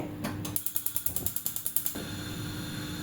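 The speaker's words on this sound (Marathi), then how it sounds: "इथे मी गॅस हा चालू करते" A gas stove knob is turned to light the burner under a tea pot holding water and milk, giving a quick run of about a dozen sharp, evenly spaced igniter clicks that stop abruptly, with a faint room hum around them.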